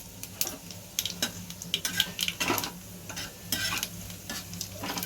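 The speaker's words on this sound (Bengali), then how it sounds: "তেল করার পর ওতে একটু ফোড়ন দিতে হবে, যেটা আমি একটু কালো জিরে ফোড়ন দিচ্ছি।" Nigella seeds and a dried chilli tempering in hot oil for a fish curry, a soft crackle and sizzle broken by quick scraping stirs and light utensil clinks close to the pan.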